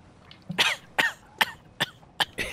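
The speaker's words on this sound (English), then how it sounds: "Except he keeps on coughing after you you leave him" A non-player character in the video game Bloodborne coughs repeatedly, about six harsh, raspy coughs spaced roughly half a second apart, each a short broadband burst, fairly close and clear over a quiet background.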